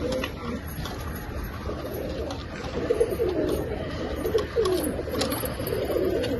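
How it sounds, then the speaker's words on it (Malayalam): A large pigeon pair in a home loft coos in soft, repeated rolling calls, fairly close, over a steady hiss of background noise. "വലിയ പ്രാവ്."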